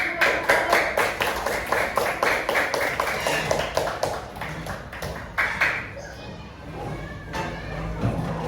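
A class claps together in a classroom, giving a rhythmic burst of hand claps in fairly regular beats that thins out after about six seconds into a few scattered claps and quieter room sound.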